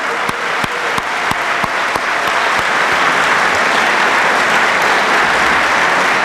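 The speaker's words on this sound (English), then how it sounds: "round of applause, round of applause" Applause from an audience at a Catholic baccalaureate Mass for graduating seniors, steady dense clapping throughout with a few sharp louder claps standing out early on.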